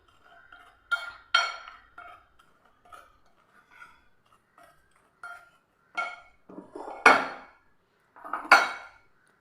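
A utensil clinks and scrapes against a bowl while wheat batter is mixed with salt, giving irregular sharp taps and short scraping bursts with quiet gaps between them.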